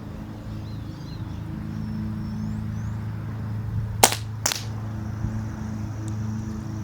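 A Crosman 1377 air pistol fitted with an upgrade kit fires two sharp, close cracks about half a second apart over a steady low background hum and faint birdsong outdoors.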